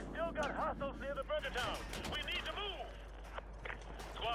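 Enemy gunfire in Modern Warfare 2 Remastered, a rapid run of sharp shots and bursts scattered through the battle mix, heard beneath a player talking throughout.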